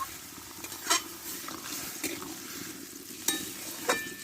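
Puishak (Malabar spinach) greens cooking in a pan with water added, giving a steady sizzle and bubbling hiss with a few soft utensil scrapes and clinks, close and alone without talk.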